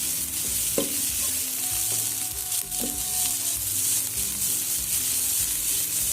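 A samosa vegetable mixture is stirred in a hot pan over a steady sizzle and frying hiss, with occasional scrapes and clinks of the spoon against the pan, heard up close with no talking.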